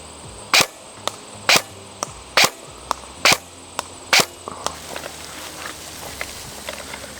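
An ASG Scorpion EVO airsoft gun fires BBs in six sharp, loud snapping shots spaced roughly a second apart, some paired with faint impacts. Quieter scattered ticks and light outdoor background follow, with no talking.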